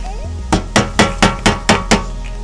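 Hammer strikes during a DIY wheelbarrow build, seven sharp, evenly spaced blows close by, ringing briefly after each hit.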